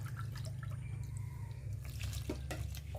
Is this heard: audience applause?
no